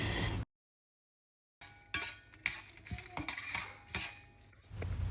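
Chillies, cumin and coriander seeds fry in oil in a pan, a light crackle with repeated clinks and scrapes of a spoon against the metal after a brief silent gap.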